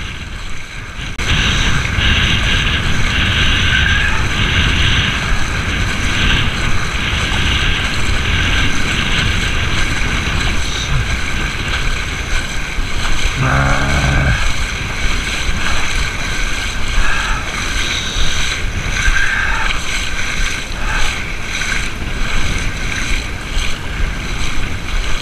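Steady wind roars across the shore of Lake Peipsi, a constant broadband rush that holds close and loud for the whole stretch, with faint lapping of water underneath and no talk.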